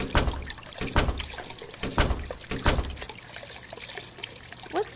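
Water drips heavily in the horror game The Crooked Man, a slow, irregular series of loud, close plops and splats about one per second over a low background hum.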